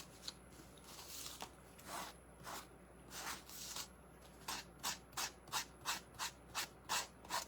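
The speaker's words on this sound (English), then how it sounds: "Do I need to sand some more?" Hand sanding of a wooden cross to make it look rugged: rhythmic scratchy rubbing strokes, a few slow irregular passes, then a quicker steady series of about ten even strokes, close and fairly quiet with no talking.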